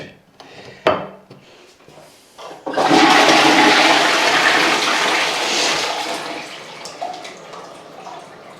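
A toilet flushes close by with a loud surging rush of water that slowly tapers off, following a couple of sharp clunks from the handle and fittings.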